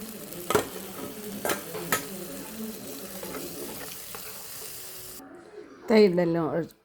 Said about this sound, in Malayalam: തൈര് ഒഴിക്കുവാണ്.